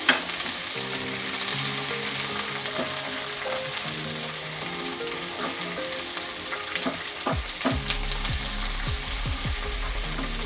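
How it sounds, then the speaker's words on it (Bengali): Capsicum and tomato fry in a pan for chili chicken, giving a steady close sizzle with occasional stirring scrapes and clinks against the pan. "এবার একটু এগুলো ভেজে নেব।"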